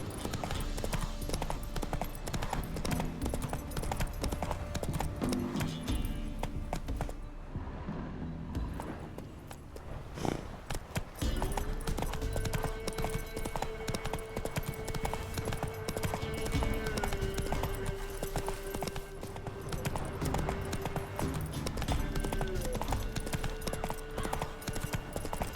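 Rhythmic clip-clop of a horse galloping in The Witcher 3 Wild Hunt, loud and continuous hoofbeats with a brief lull midway, layered over game ambience and a sustained musical tone.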